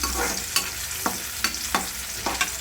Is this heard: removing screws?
no